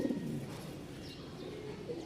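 Soft, low pigeon coos murmur at a moderate distance, a short throaty burst at the start followed by quieter cooing.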